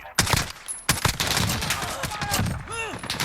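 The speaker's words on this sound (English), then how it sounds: "I'm gonna put this in select fire to single shot first, and I'm gonna be shooting this in the crouch position" Single-shot VKS rifle fire in Call of Duty Modern Warfare, a few sharp, loud reports spaced apart with game effects and chatter around them.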